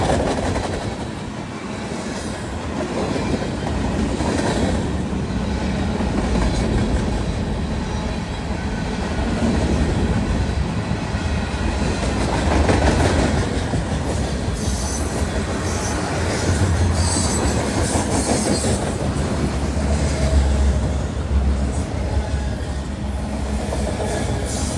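A long train with a DPU locomotive rolls steadily through a railroad crossing, giving a continuous loud rumble of wagons with squealing wheels and faint clickety-clack throughout.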